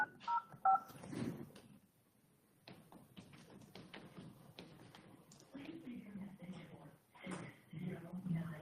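Touch-tone telephone dialing during a borough council meeting: a short run of bright keypad tones near the start, followed by murmured talk and room noise in the council chamber.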